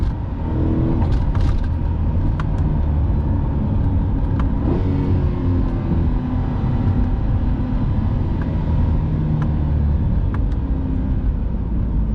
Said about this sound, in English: I get higher in the RPMs, it seems like it gets even louder. What the heck? Let's try to get some downshift action going.